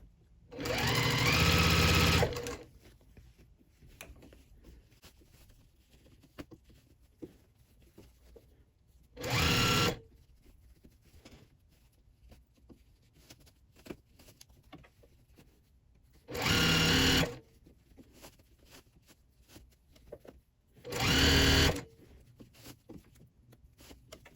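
A sewing machine stitches a fabric scrunchie tube in four short, steady bursts of whirring, spaced by quiet pauses while the fabric is tugged along.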